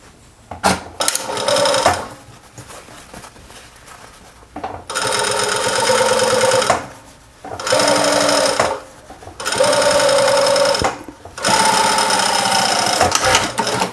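A sewing machine stitches the seams of a welding cap in four loud, steady runs of close, rapid whirring, each lasting about one to two seconds. Short quiet pauses separate the runs, and a few brief handling knocks come at the start.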